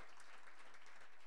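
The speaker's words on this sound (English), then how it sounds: "one more big round of applause for our panelists for joining us" Faint audience applause for conference panelists at a live-streamed panel event, a brief soft patter of clapping heard from a distance.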